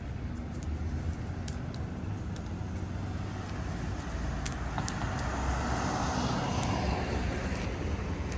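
Road traffic passes at a steady distance, a continuous broadband rumble and tyre hiss that swells slightly as a car goes by, with no talking heard.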